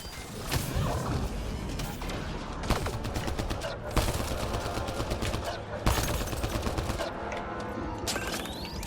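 Turret gunfire in the video game Mass Effect Andromeda, a sustained loud burst of rapid shots and impacts running the whole stretch, with occasional heavier blasts and crashes layered in.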